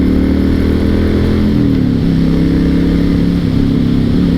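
A 2006 Honda VTX1300 motorcycle cruising at speed, its V-twin engine giving a loud, steady low rumble with a slight pitch shift midway, close to the rider, no voices.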